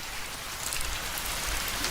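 Rain in a Bengali horror cartoon: an even, dense hiss of falling drops with no voices.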